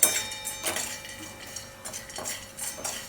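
A spoon clinks and scrapes against a pan while spice masala is stirred into hot fried semolina squares. The taps come light and irregular, with soft rattles, quiet and close.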